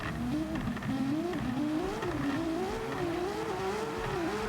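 Drift cars launch from the start line at an Autopolis street-tour round. The engines rev and accelerate steadily together at moderate distance, with the pitch rising and falling under a constant roar and no talk.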